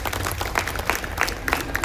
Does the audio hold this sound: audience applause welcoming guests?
yes